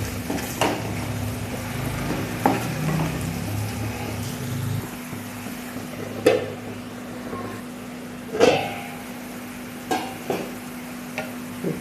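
Tomato sautéing with a pinch of salt in a pan for a vegetable curry, a steady low sizzle with occasional spoon scrapes and stirs, close and alone.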